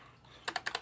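Four quick keystrokes clack on an RGB keyboard whose keys have been spray-painted, each a crisp, close tap after a brief quiet lead-in.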